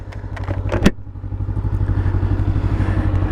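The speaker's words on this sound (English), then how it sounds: "Key on. Nice smooth startup. 180-degree crank." A 2025 Honda NX500 adventure motorcycle with a 180-degree crank parallel twin and factory exhaust cranks over with a brief starter clatter, fires up, and settles into a close, steady, thumping idle.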